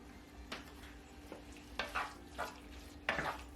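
A spatula stirs marinated bulgogi beef with sesame oil in a pan, giving a few separate scraping, clattering strokes against a low steady background hum, close and moderately loud.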